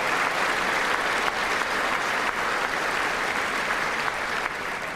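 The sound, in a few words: applause at State of the Union watch party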